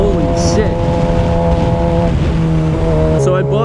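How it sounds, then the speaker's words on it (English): A 2006 Mitsubishi Eclipse GT with a loud aftermarket exhaust, droning steadily at idle or low revs inside the car while a person talks over it. "I feel like I have to talk so much louder because of this exhaust."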